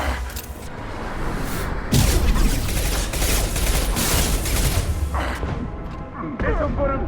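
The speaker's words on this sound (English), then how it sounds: "Taking heavy fire." Heavy gunfire and explosive booms from a Mass Effect 2 firefight, a dense, continuous barrage of shots and thuds for the whole stretch, loud and close, with a heavier impact near the middle.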